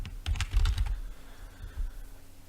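Quick bursts of keystrokes on a computer keyboard, used to type text into a cutting-mat design program, come as a dense cluster of clicks and then a few isolated taps, close and clear with no talking.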